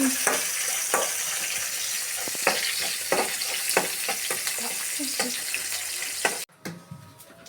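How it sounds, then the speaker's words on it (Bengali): Onion and chili frying in a pan for a pasta dish, a continuous close sizzle broken by regular stirring scrapes, cutting off abruptly near the end. "এই তো পেঁয়াজ মরিচটা ভাজা হয়ে গেছে"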